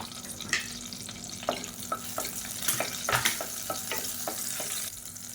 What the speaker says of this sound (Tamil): அப்புறம் 5 பச்சை மிளகாயை 2ஆக கீறிட்டு சேர்த்துக்கலாம்.